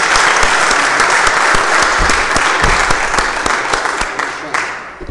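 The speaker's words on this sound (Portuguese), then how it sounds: "solicito a todos que saudemos o pavilhão nacional com uma salva de palmas" Council members at an ordinary chamber meeting give a sustained round of applause saluting the national flag, loud and dense, tapering off near the end.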